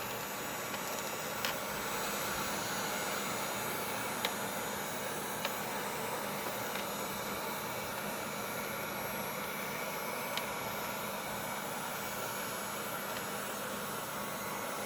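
A heat gun blows a steady, broad hiss while heating the soles of Nike Air Yeezy Net Tan sneakers during a sole swap, continuous and even with a few faint clicks.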